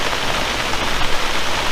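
Rain falls on a freshly waxed car, a close, steady hiss of drops pattering on the paint with no breaks, loud and alone.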